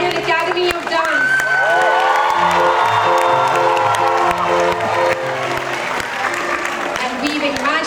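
An audience at a school function claps and cheers for the choreographers of the stage dances, a steady crowd roar with whoops over music playing throughout.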